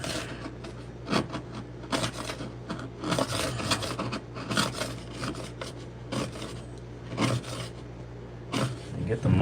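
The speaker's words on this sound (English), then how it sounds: "Sharp chisel helps. Or scraper, whatever." A sharp chisel or scraper rasps across vinyl plank flooring in repeated close, gritty strokes, with a voice speaking between them.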